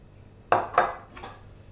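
Finely chopped onion is scraped back into a bowl in a kitchen: two close, clattering knocks of a utensil against the dish, then two fainter taps, with no talking.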